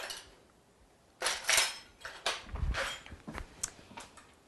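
Whisk clinking against a bowl while hot lemon meringue pie filling is worked into eggs, quick metallic taps and scrapes in short uneven bursts, close and fairly quiet.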